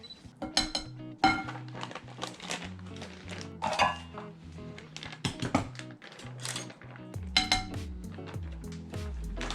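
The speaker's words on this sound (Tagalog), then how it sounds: "We have to mix all the ingredients." Cassava cake batter of grated frozen cassava and other ingredients is mixed in a bowl, with irregular clinks, taps and scrapes of a utensil against the bowl and soft wet stirring sounds, close and unhurried.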